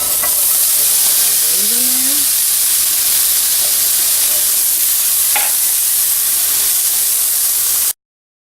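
Onions sizzle steadily in a hot pot on high heat for cornbread dressing, a loud, even frying hiss that runs unbroken and close, with a brief soft tone early on and no talking.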